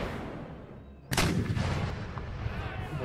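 A canister shot artillery blast in the Empire Total War game lands as one sudden, loud boom after a quiet moment, followed by a rumbling, crackling tail.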